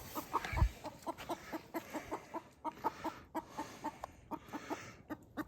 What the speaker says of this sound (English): That chicken there just got shocked.